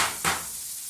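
Pasta cooks in a pot on a stovetop, giving off a soft, steady hiss with a brief bubbling surge near the start.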